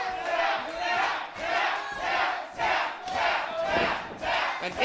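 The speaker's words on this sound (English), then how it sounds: "The crowd wants Garrini to tap." Wrestling crowd at a Prestige Wrestling match shouting and roaring in loud, surging waves during a guillotine choke, the chants rising and falling in repeated bursts with no talk over them.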